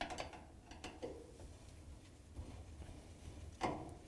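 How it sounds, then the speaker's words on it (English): Quiet mechanical clicks and a few sharp ticks of a screwdriver removing door hinge screws from a Whirlpool/KitchenAid/Maytag dryer frame, with a louder click near the end. "We're going to remove these two screws that hold the door hinges onto the frame."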